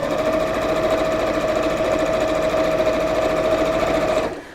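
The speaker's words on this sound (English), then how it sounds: "sewing in straight lines like this isn't the most interesting thing to see" Sewing machine running steadily while stitching a straight seam across an apron, a loud continuous whirring drone that holds even for about four seconds before cutting off abruptly.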